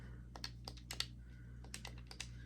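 Crisp clicking of a video game controller's buttons and D-pad, a scattered series of small sharp clicks in irregular clusters, close and quiet over a steady low hum.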